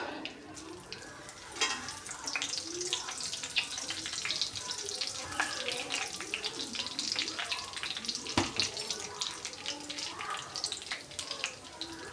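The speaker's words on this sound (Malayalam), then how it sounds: "എണ്ണ ചൂടായാൽ കറിവേപ്പില ഇട്ട് കൊടുക്കാം" Curry leaves crackle and sizzle in about three tablespoons of hot coconut oil, a steady close spitting hiss with sharp pops scattered throughout.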